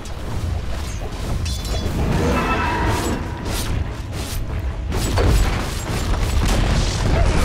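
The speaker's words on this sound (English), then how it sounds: "Dire's middle tower has fallen." A Dota 2 tower collapsing mid-match, heard as deep booming crumbles and crashing rumble layered over continuous in-game battle noise for several seconds.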